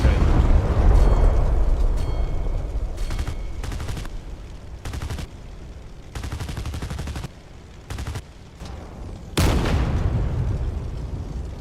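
Stock aircraft guns firing in a jet combat game during a dive: a series of rapid bursts of cannon fire, loud and close, broken by short pauses over a roaring engine background, ending in a heavy burst.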